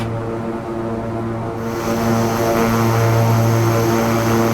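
A Beechcraft King Air 350 takes off in the X-Plane 11 flight simulator, its twin turboprop engines droning loudly and steadily with strong propeller hum, rising in power midway and holding a constant roar.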